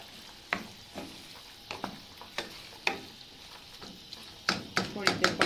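Fried onions (barista) being stirred through hot oil, giving a soft sizzle broken by repeated scraping strokes of a spoon against the pan that grow quicker and denser toward the end, with a voice speaking at times.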